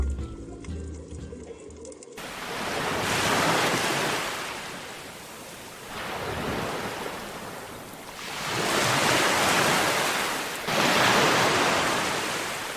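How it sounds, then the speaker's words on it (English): Fierce ocean waves of Bass Strait off southern Australia surge and crash in a steady, loud roar of surf, swelling and easing every few seconds with a broad hiss of spray and wind. "amid the fierce waves of Bass Strait"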